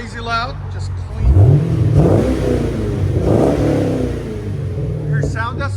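A 2014 Chevy Camaro 2SS with a 6.2L V8, X-pipe and Magnaflow exhaust plus cold air intake revs loudly up close in two strong bursts, settling into a deep idle rumble between them, with voices talking briefly at the start and end.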